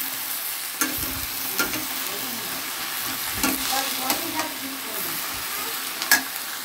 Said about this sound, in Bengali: এবার এটাও ভালো করে নাড়বো, ভালো করে নুন হলুদটা মিক্স করবো।